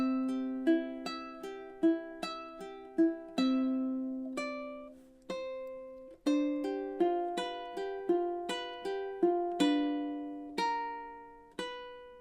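Ukulele plucks the major-key melody of Spanish Romance, measures 17 to 20, a fingerstyle run of bright, ringing plucked notes with arpeggiated chords in an even flowing rhythm, each note decaying softly, solo and close.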